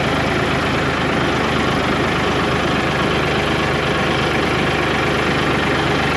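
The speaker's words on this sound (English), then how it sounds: "the engine's, you can hear it's probably sputtering a little bit" A tractor engine runs under load, its steady low rumble and uneven, slightly sputtering idle continuing loud and close without pause.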